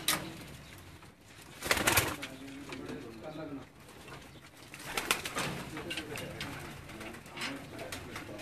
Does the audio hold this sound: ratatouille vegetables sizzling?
no